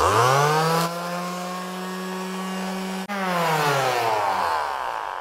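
A power sander whines loudly and steadily on a large 3D-printed part, its pitch dipping briefly partway through before revving back up, with no talking.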